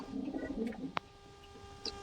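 Pigeons kept for sale give a soft, low cooing near the start, followed by a quieter stretch with a sharp click and small background noises.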